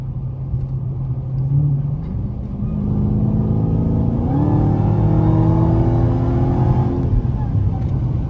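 A Dodge Challenger Hellcat accelerates hard, its engine note climbing steadily in pitch and swelling into a loud, close, rumbling roar that holds for several seconds.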